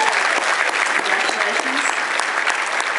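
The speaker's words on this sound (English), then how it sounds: "So will you join me in a round of applause?" Audience applause fills a hall at a charity organization's event, dense and steady clapping from many hands throughout, close and loud with no break.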